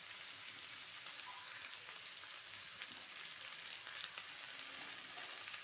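Chopped tomato frying in a pan for a Bengali breakfast potato-egg bhujia, giving a steady, soft, even sizzle that runs unbroken from start to finish with no talk.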